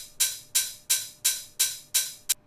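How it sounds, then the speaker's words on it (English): Six bright, sizzling open hi-hat hits in an even, steady pulse make up a drum sample for a drum and bass pattern. Each hit rings briefly before decaying, and the last is cut short. "the only other element is this open hi-hat"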